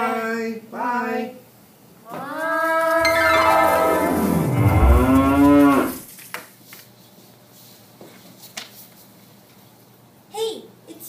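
Cows moo loudly in a long drawn-out low call that rises and falls, preceded by shorter vocal calls and followed by quieter scattered sounds and a voice.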